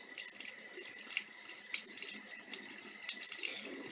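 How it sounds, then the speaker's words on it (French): A tap runs lukewarm water in a steady, close rushing stream with light splashing, alone and without pause. "je vais allumer l'eau. Je travaille l'eau tiède."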